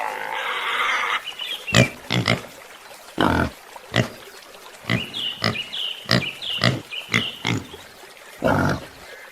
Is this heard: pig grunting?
yes